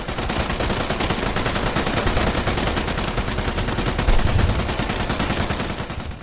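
Rapid, dense German machine gun fire from the WWII Battle of Rzhev rattles continuously, loud and unbroken, like a sustained barrage of rounds with no pauses.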